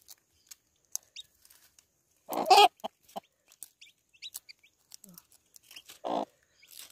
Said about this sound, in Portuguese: Um pintinho amarelinho.